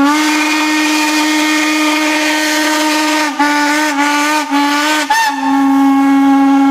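A toy train's whistle blows loud and close as one long, steady, bright tone, broken by a few brief dips near the end before it carries on.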